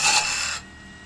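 A parting tool cuts into wood spinning on a lathe, making a loud, broad raspy scrape for about half a second that then cuts off. A quieter hum from the turning lathe carries on after it.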